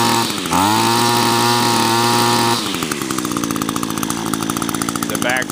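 An Echo SRM 225 string trimmer's small two-stroke engine runs loud and close with a steady buzzing drone, then drops to a rougher, pulsing idle that keeps chugging to the end.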